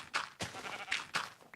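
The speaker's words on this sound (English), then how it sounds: "Oh, it's just a sheep." A Minecraft Beta 1.1_02 sheep bleats in a few short, nasal bursts, close and distinct with no talking.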